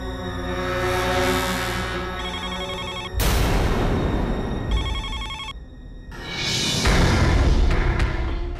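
A telephone rings with a repeating electronic bell pattern, loud and close, broken by a dramatic musical whoosh, then continuing in bursts over swelling background music.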